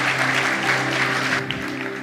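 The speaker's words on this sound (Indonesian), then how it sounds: "Sekali lagi berikan aplaus untuk Pastor Teser." A church congregation applauds after a pastor's sermon, a steady wash of clapping that fills the room throughout with no talk over it.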